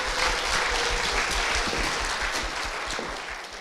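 Sustained applause from a church audience welcoming a speaker's parents, an elder and a deaconess, onto the stage; steady dense clapping fills the hall throughout, tapering slightly toward the end.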